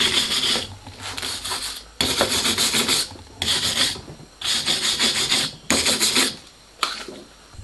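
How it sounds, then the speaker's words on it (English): Wire brush scrubbing rust and thickened grease off metal, loud rasping strokes in regular bursts of about a second with short pauses between them. "the light wire brushing to remove thickened grease and the worst forms of rust"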